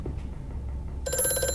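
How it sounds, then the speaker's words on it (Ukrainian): In the horror video game Amnesia, a telephone suddenly starts ringing with a bright, trilling bell after a moment of low, dark ambient rumble, and it rings on steadily and clearly. "Ой-ой-ой, знову телефон."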